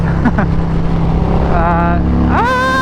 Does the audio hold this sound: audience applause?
no